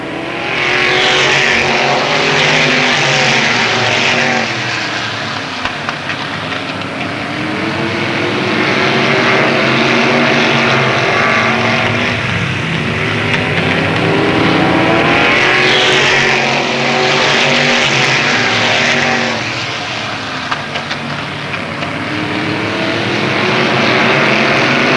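Race cars thunder around a speedway in a 1995 season opener, engines roaring loud and continuous as the pack passes, swelling and fading in repeated waves.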